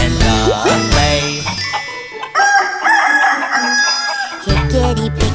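Cartoon rooster and hen calls, clucks and crowing rise over a bright children's song backing about a black hen that lays eggs, loud and repeated with music throughout.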